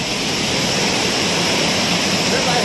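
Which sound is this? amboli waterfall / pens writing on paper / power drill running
amboli waterfall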